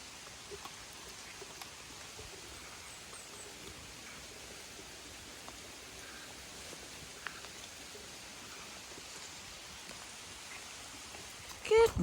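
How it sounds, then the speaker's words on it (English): Heavy rain falls steadily as a soft, even wash of noise, heard from shelter beneath a big oak tree on a windy day, with no voices. "It's raining. Quite heavy."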